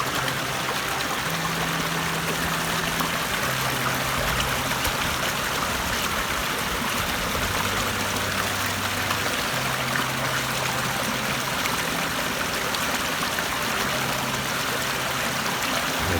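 Water from a Highland stream in Scotland rushes and trickles steadily while a water bag is filled, a constant close wash of flowing water without speech.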